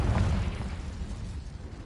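A Confringo spell explodes in Hogwarts Legacy: a loud, close blast with a sudden rumbling onset that fades gradually into a low, dull tail.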